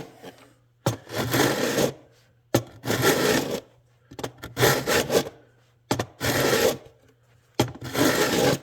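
Steel file strokes leveling fret wire on a guitar neck during restoration: six long rasping passes, each about a second, separated by brief pauses, close and fairly loud.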